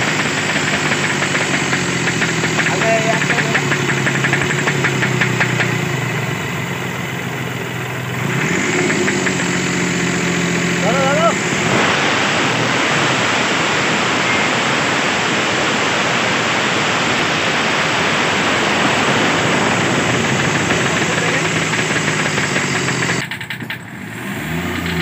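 The hot-running engine of a Hyundai Xcent with a faulty injector nozzle, idling with a steady, loud mechanical clatter and rattle that continues for the full stretch, with a brief dip in level partway through.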